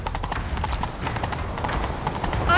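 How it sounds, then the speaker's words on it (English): Hooves of a galloping horse in The Witcher 3 thud in a fast, steady rhythm, close and continuous, with a faint rush of movement beneath. "Grab a horse,"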